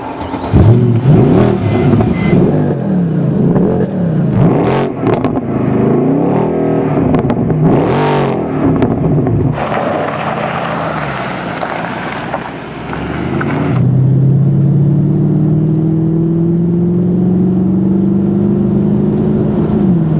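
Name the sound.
car engine revving through exhaust pipe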